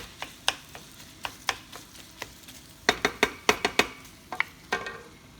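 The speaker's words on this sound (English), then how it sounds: "Just bash the mince with the back of your spoon. Just try and break it up as much as you can while that's browning." Wooden spoon knocking and scraping pork mince as it browns in a non-stick wok, a run of sharp irregular taps and clacks, some in quick bursts, over a faint low sizzle, close and fairly quiet with no talk.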